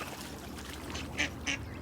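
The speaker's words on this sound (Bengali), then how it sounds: "হেভি লাগে, কতগুলা হাঁস।" Ducks on a pond in a London park, two short quacks standing out over a soft, steady outdoor background.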